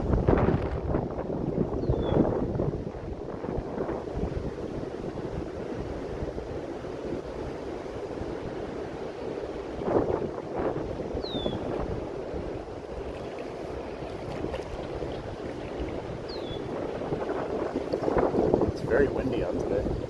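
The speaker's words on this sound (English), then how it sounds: "Very windy out today." Strong wind buffets the microphone outdoors while fishing from a boat on open water, a steady rushing roar with gusty swells, and someone talks intermittently over it.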